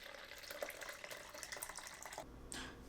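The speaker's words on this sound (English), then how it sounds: "And we'll just pour the liquid back." Film developer liquid is poured back into its bottle in a quiet, close, gurgling trickle that shifts in tone as the flow changes, with no talk over it.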